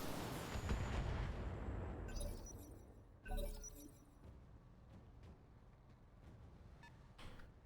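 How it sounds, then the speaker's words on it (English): Salvo of long-range missiles launching and bursting in the BattleTech video game, a loud rumbling volley at the start followed by scattered sharp cracks and impacts that fade into quieter, sparse hits. "Alright, throw out those long-range missiles"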